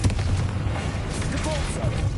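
Explosive spell blasts from Hogwarts Legacy boom in a dense, continuous barrage at close range, filling the moment with rumbling impacts while a voice shouts over the combat.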